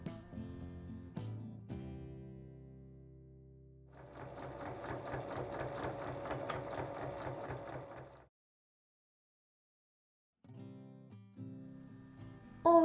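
A sewing machine stitches the lining of a fabric tote bag, with a low running hum, then a faster rattling run of stitching, a pause of silence, and the motor restarting near the end.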